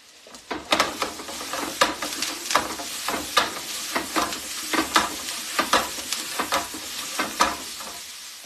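Potatoes fry in a pan on a home stove for breakfast, loud close sizzling crackle with repeated stirring scrapes and spatula knocks against the pan in an uneven rhythm, no talking.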